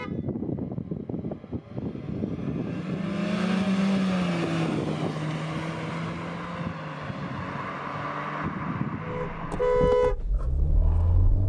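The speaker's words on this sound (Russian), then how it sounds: "Но на приборах, видите, еду газ в пол." A Lada Vesta accelerating at full throttle in normal mode during a class comparison test, its engine note rising steadily and loudly, with a sharp burst of louder noise near the end.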